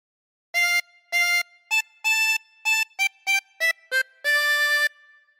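A harmonica plays a phrase of Oh Susanna, about ten clear blown and drawn notes in a lilting rhythm with short gaps, close and solo, ending on a longer held note.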